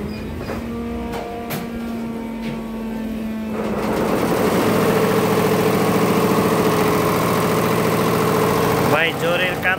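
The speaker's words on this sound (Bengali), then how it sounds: "মেশিনের ভিডিও করি।" A machine engine runs steadily at a worksite, its mid-pitched drone growing louder and fuller partway through and continuing without pause, with a brief change near the end.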